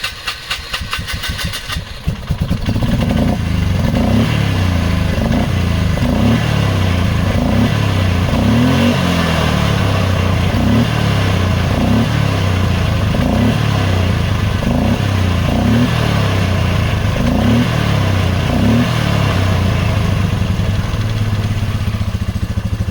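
A 1995 Polaris Magnum ATV engine, with choke on, cranks, catches and settles into a steady, loud, throbbing run that continues without pause, close up and uninterrupted.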